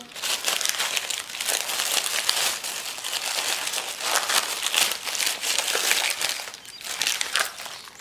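Plastic wrapping on an online-order parcel crinkles and crackles continuously up close as the package is opened, without speech.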